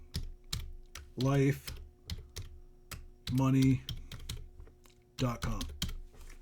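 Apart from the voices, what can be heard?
typing on a computer keyboard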